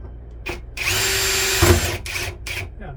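Power drill boring into an RV roof hatch for a self-tapping screw, several short whirring bursts with one longer steady run in the middle, close and loud, no talking.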